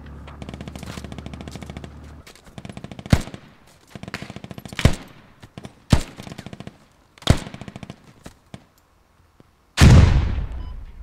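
Gunfire in the military shooter Squad: rapid automatic bursts and several sharp, heavy single shots spaced a second or so apart, ending in a loud close blast with a long decaying tail.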